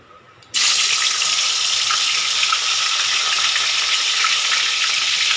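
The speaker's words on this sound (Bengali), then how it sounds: "তেলটা গরম হয়ে গেছে এবার আমি উচ্ছেগুলো দিয়ে ভেজে নেব" Bitter gourd pieces hit hot oil in a pan and burst into a loud, steady sizzle and crackle that holds evenly after a brief quiet start, with no talking.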